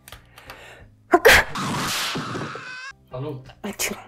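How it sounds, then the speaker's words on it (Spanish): One loud sneeze bursts out at close range, a sharp inhale followed by a forceful explosive release, with a person talking quietly just before and after. "Voy a estornudar."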